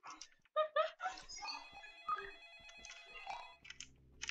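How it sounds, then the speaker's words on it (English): A telephone rings in short electronic bursts among sparse Roblox game sounds and a brief voice, fairly quiet overall. "I hear the telephone ringing."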